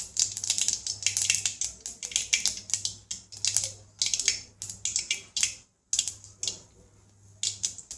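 Mustard and cumin seeds sputter and pop in hot oil, a dense crackle of rapid sharp bursts coming in uneven clusters with a brief pause midway.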